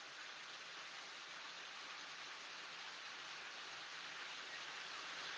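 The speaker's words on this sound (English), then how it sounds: "Now the rain has decided to pour." Pouring rain heard as a steady, dense hiss of falling water, even and unbroken throughout at low volume, with no voices.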